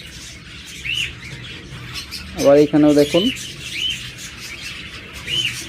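Split blue lovebirds chirp and squawk in high bursts throughout, with someone speaking briefly in the middle over the chatter.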